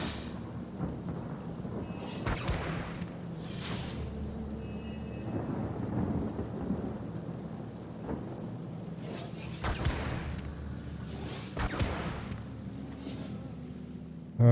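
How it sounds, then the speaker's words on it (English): A rain and thunder spell in Divinity: Original Sin Enhanced Edition brings steady rainfall hissing throughout, with several deep thunder rumbles rolling in at intervals, moderately loud and without speech. "Make it rain. Water rain down."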